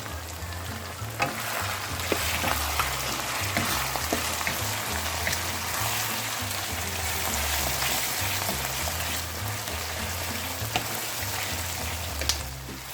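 Chicken pota fried down in a pan with lemon juice and coriander, a dense continuous sizzle like rain with occasional stirring scrapes, steady and close with no one speaking.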